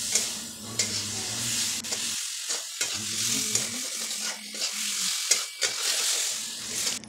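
Potatoes with spices are stirred in a cooking pot, giving an up-close sizzle broken by rhythmic scraping and clattering strokes, with a low hum beneath and no talking.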